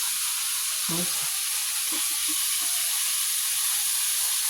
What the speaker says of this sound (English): So, we got the butter in here. Gonna let it melt up on here.